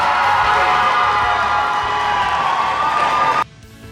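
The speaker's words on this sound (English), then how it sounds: "a round of applause for the runners-up in Federation Cup 2022, the Binghamton University Bearcats" A crowd at the Federation Cup 2022 applauds and cheers for the runners-up, the Binghamton University Bearcats, a loud continuous wash of clapping and shouts that cuts off abruptly near the end.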